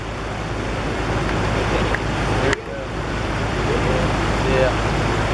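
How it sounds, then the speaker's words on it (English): Rushing river in flash flood in the Great Smoky Mountains near Ramsey Cascades and Greenbrier, a steady loud broadband roar of churning water, with a brief sharp knock midway and faint voices underneath. "River coming down"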